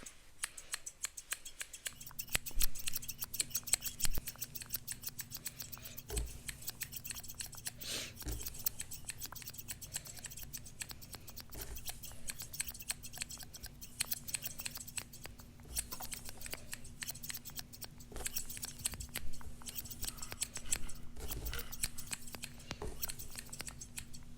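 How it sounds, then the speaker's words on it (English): Close, crisp scissor snips trim hair in an ASMR session, a rapid, continuous run of small cutting clicks over a faint low hum. "Let's go ahead and start to trim your hair"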